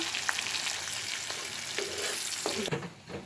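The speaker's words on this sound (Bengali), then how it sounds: "তেলে দিয়ে দিব পেঁয়াজ এবং রসুন পেঁয়াজ এবং রসুন দিয়ে আমি ডালে বাগার দিয়ে নেব" Onion and garlic frying in hot oil for a dal tempering, a continuous soft crackling sizzle with occasional stirring scrapes and pops, steady and close.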